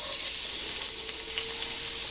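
Minced garlic sizzles in olive oil in a hot wok for stir-fried clams with black bean sauce, a steady, close, bright frying hiss that continues without pause and with no voices.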